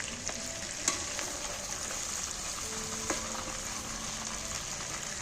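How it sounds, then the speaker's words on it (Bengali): Chicken pieces fry in oil in a pan, a steady close sizzle with a couple of clinks or scrapes from the cooking utensil, no voices. "আরও আমি মেরে ভালো করে ভেজে নেব বাকি মাংসগুলো"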